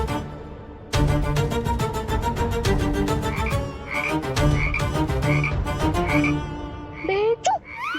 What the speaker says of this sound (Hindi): ये मेंढक कितनी आवाज कर रहा है